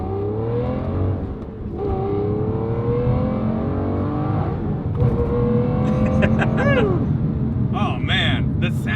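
A rare Aston Martin supercar with a straight-piped exhaust roars and revs loudly up close, the engine pitch climbing and falling in sweeps. People talk over the engine throughout.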